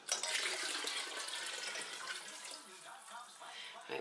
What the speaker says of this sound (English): I'm going to put in 4 cups of water